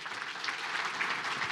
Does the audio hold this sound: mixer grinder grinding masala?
no